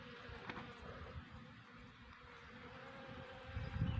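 Bees buzzing around flowering strawberries in a home garden, a steady close insect drone running throughout, with a louder low swell near the end.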